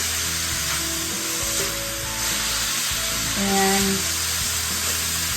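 Food sizzles steadily in olive oil in a pan while being stirred, a continuous frying hiss with soft scraping strokes, under a faint single word of speech.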